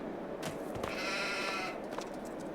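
Sheep bleat in the Farming Simulator 22 video game, one drawn-out, wavering bleat close by with a few brief bleats around it, heard alone against a steady background hum.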